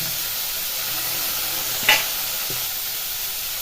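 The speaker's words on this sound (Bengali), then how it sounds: "তেলটা এইভাবে গরম করে নিচ্ছি এখন এই আলুগুলি এখানে দিয়ে দেব" Potatoes frying in hot oil in a pan give a steady, even sizzle and hiss throughout, with one brief louder scrape or stir near the middle and no voices.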